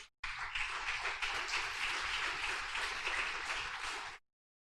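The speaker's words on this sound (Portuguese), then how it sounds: "Aplauda Jesus" A church congregation applauds in a steady burst of clapping that starts abruptly, holds for about four seconds, then cuts off.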